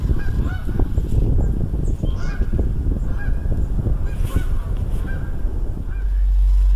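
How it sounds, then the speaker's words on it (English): Canada geese honk repeatedly in a noisy flock, loud and close, with overlapping calls over a rumbling outdoor background. "I also saw Canadian geese."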